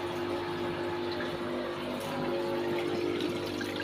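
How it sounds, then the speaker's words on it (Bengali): Tap water runs steadily while clothes are washed at home from the water supply, a continuous close rush with a faint pump-like hum underneath and no talking. "এই যে কাপড় ধোয়া হচ্ছে, জল খুলেছে সাপ্লাই, দেখো"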